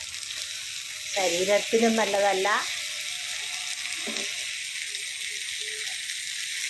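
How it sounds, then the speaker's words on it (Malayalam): Kerala kilimeen fish fries in a spoonful of oil in a pan with a close, continuous sizzle, while a person speaks briefly over it. "എണ്ണയില്ലാണ്ട് നമുക്ക് വറുത്തെടുക്കാം ഒരു സ്പൂൺ എണ്ണയെ ഞാൻ ഒഴിച്ചിട്ടുള്ളൂ"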